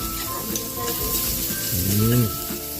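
Garlic sautés in a pan already holding ginger for a sweet and sour dish, giving a close, crackling sizzle with spatula stirring. A voice speaks briefly near the end.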